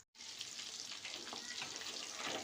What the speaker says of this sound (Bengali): চলো পকোড়াগুলো ভেজে নিই।